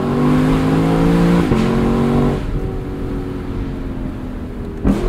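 A 2022 Lexus LC 500 Convertible's engine pulls hard under acceleration, a loud rising drone that drops pitch at a gear change, eases off, then surges again at the end.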